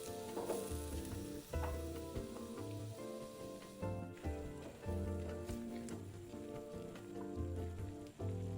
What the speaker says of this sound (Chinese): 拌炒至食材溢出香氣後，再倒入清水400克。 拌一拌，再將爐調至高火。